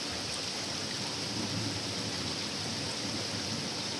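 Steady summer rain pours down during a spell of heat, fluctuating between heavier and lighter. It makes a dense, continuous hiss close by with no voices, an even wash of drops from start to finish.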